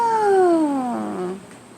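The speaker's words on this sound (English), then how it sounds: "You kitties are out of food?" A pet cat named Otis lets out one long, loud, descending meow close by, clear and alone, tapering off near the end.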